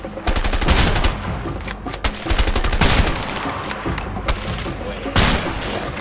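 Rapid bursts of gunfire in the video game A Way Out, loud, dense and close, with repeated sharp shots and fusillades across the whole stretch, a voice briefly shouting over them.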